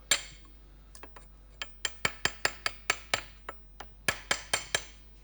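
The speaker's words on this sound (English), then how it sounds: "I'm going to chip that off with a hammer and chisel." Sharp metallic strikes ring out one after another, about a dozen close-up hammer blows on a chisel chipping a concrete block, spaced irregularly with brief pauses.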